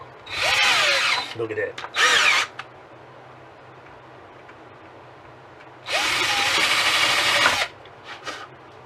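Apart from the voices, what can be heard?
power drill drilling pilot hole for antenna mount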